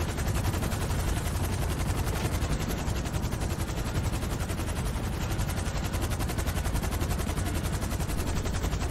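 Sustained, dense automatic gunfire from helicopter-mounted machine guns in GTA Online, a relentless rapid rattle of shots filling the whole stretch at steady loud level with no talk over it.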